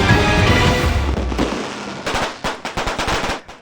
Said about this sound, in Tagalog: Panandalian man ang pailaw at paingay ng mga paputok sa pagsalubong sa bagong taon